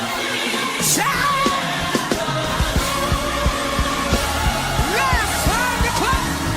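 A church congregation shouts and whoops in worship, voices rising in bursts over steady rhythmic thumps that sound like drum hits or stomping, loud and close with an energetic, lively feel.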